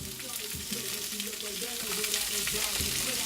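Steaks seasoned with salt and seasoning salt fry in a hot pan, a steady loud sizzle with crackling pops running throughout, close to the microphone.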